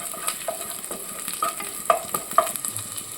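Ginger and garlic sautéing in butter in a pan, a light steady sizzle with repeated quick scrapes and taps of a stirring utensil, close and fairly quiet.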